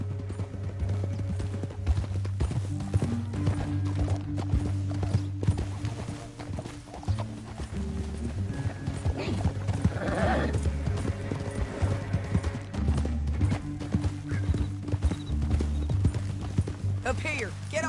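Steady clip-clop of horse hooves at a gallop in the video game Red Dead Redemption 2, close and continuous, with a brief whinny and voices talking over the rhythm.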